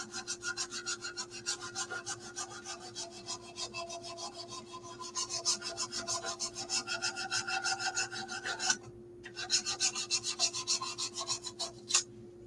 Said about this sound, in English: you should be sanding with the grain rather than against it